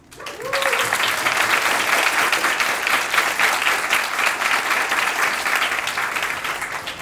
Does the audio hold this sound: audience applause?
yes